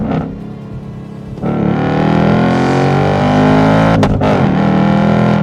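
A Ford Mustang GT Performance Pack V8 roars up in a loud, close rev. It holds a rich, steady tone, dips briefly, then climbs again.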